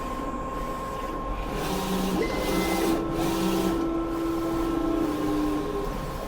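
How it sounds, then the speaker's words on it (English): Three DTF transfer printers running together in a print shop, a continuous close mechanical whir and hum with steady tonal whines and faint rhythmic shuttle clicks, no talk. "We have all 3 printers up and going."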